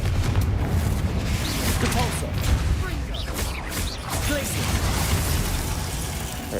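In the video game Hogwarts Legacy, a Confringo explosion spell booms with a sustained rumbling, crackling blast that fills the space at a steady, heavy loudness.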